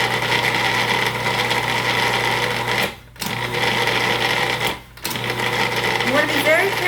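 A food processor pulses pie crust dough in loud, steady whirring bursts with two short pauses, close up, while a person talks over it.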